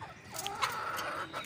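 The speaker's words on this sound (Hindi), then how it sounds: "ये मुर्गा भी इस वाले मुर्गे की तरह बनेगा, और इसी में एक ब्लैक कलर का मुर्गा घूम रहा है" A rooster and hens in a backyard setup cluck in short, close, bright calls, several quick clucks following one another, with no voices.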